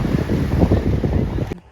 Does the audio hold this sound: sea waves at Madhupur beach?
yes